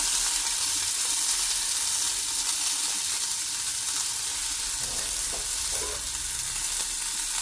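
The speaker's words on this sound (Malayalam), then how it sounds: "കുറച്ച് കടുകിട്ട് ഓയിൽ വെച്ചിട്ട് അതിൽ കുറച്ച് ചെറിയ ഉള്ളി കടുക്കി വെച്ചിട്ടുണ്ട്." Mustard seeds, small shallots and chili flakes fry in hot oil with a steady, close crackling sizzle throughout, a brief stir or clatter near the end, while a Kerala-style chembali fish curry is prepared.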